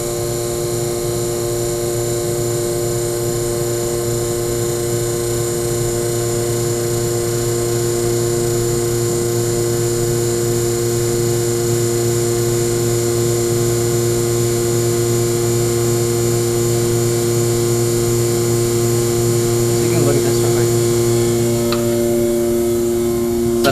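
Steady mechanical drone of a vacuum pump evacuating the airlock of a Coy anaerobic chamber, with a constant hum and tonal whine holding throughout and a faint shift near the end; no talking.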